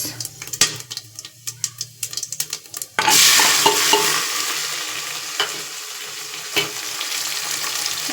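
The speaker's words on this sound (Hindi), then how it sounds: "मैं इसमें डाल दूँगी प्याज।" Whole spices clink and rattle as they are stirred in a pan, then onion goes in with a sudden loud sizzle that settles into steady frying with occasional scraping.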